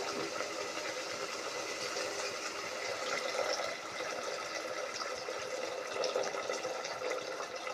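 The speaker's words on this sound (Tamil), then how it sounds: "கொள்ளு வேக வச்ச தண்ணி, புளி தண்ணி நம்ம ஊற்றுவோம்." Boiled horse gram water and tamarind water are poured into a pot of rasam, making a steady, fairly quiet hissing wash of liquid with no pauses.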